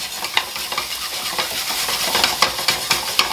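Vegetables sautéing in about half a tablespoon of olive oil for an escovitch sauce, with a bright, continuous sizzle and rhythmic stirring scrapes close by.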